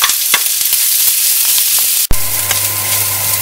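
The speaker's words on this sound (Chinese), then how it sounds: "瑤柱絲，好，我哋爆香佢先" Dried scallop shreds stir-fried in a hot wok for a five-spice taro cake, a steady loud sizzle with scattered crackles, cut by a brief sharp clatter before a low hum joins the frying.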